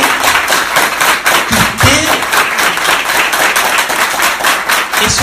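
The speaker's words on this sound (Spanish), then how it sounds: "Y eso merece un aplauso." A church congregation applauds during a sermon, a dense burst of clapping from many hands with a few louder thumps, fairly close and filling the room with no clear speech over it.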